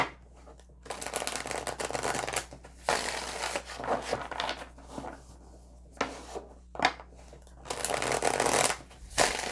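Tarot deck being shuffled up close, with repeated riffling and sliding card bursts broken by short pauses, clear and fairly loud.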